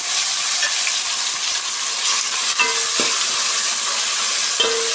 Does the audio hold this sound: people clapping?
no